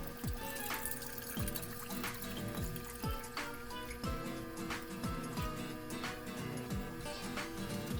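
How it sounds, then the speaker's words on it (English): Cold water running steadily from a tap into a large container, a continuous rushing flow with faint clinks and knocks, close by and with no talking. "Fill another large container with cold water."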